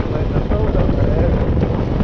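Royal Enfield Himalayan motorcycle engine revving up under way off road, a steady loud drone with heavy wind buffeting throughout.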